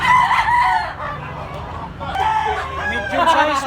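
A young claret gamefowl stag crows loudly and close by, its strained call filling the whole moment and rising again near the end, with faint farmyard background.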